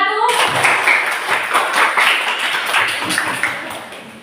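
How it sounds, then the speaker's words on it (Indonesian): A classroom of elementary school pupils claps for a group presentation, brisk scattered hand claps filling the room for a few seconds, loud and close. "Berikan tepuk tangan untuk kelompok 1"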